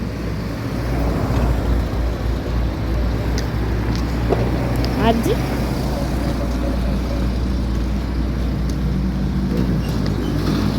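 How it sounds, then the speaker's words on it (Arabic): Steady traffic on a São Paulo street, cars and motorcycles rolling past in a continuous near rumble with a brief higher engine whine midway; a voice speaks briefly over it. "دي اصوات عربية وموتوسيكل كده ماشية"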